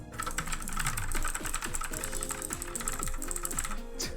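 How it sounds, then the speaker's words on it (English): Rapid, furious typing on a computer keyboard in the video game Trails from Zero, a dense unbroken clatter of keystrokes heard alone with a faint musical hum underneath. "Are his fingers even hitting the keyboard? How is this speed humanly possible? Furious typing."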